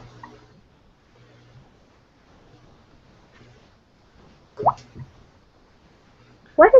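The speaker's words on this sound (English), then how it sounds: "It's a dripping sound. I think my pipes are leaking." A few soft, distinct drips or plops of water from leaking household pipes, spaced irregularly in a mostly quiet room, with a faint murmur in the background before them.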